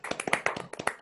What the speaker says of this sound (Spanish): un aplauso ahí para León